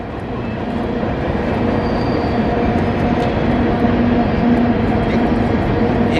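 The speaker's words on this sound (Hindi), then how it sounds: "ट्रेन आएगी, ट्रेन जाएगी, ट्रेन आएगी, ट्रेन जाएगी।" A train rumbles past close by for several seconds, a steady loud roar of wagons rolling on the rails with faint squeals from the wheels.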